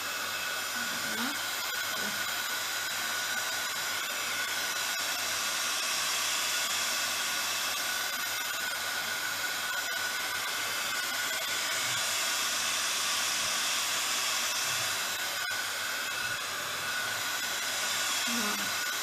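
A heat gun blows steadily to melt embossing powder, a continuous close airy hiss with a constant tone that runs unbroken throughout, with faint voice traces beneath it.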